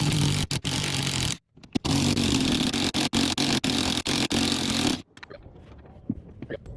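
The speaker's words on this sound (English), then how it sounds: "These were pretty difficult to remove, so I got the impact gun." Pneumatic impact gun hammering out E14 Torx seat bolts on a Hummer H2, loud dense rattling bursts broken by short gaps, then a quieter clatter of handling afterward.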